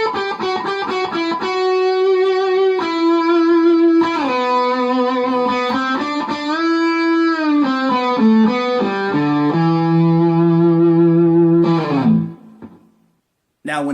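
An electric guitar with distortion plays sustained notes with a wide, wavering vibrato, loud and close with no talk, then cuts off near the end.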